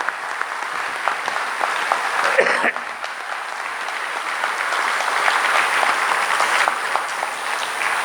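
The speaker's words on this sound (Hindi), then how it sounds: "साक्षात सभी लोग एक बार बहुत तालियों से स्वागत करेंगे जयराम जी का" A crowd claps steadily at a Panchgavya Chikitsa Mahasammelan gathering in Morni, a warm, continuous applause in a hall with a voice speaking over it.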